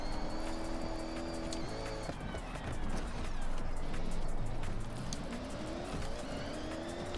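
A car in a racing video game drives along a road with loose grip, its engine droning steadily with rising and falling pitch and faint tire squeal, loud and continuous with no talk.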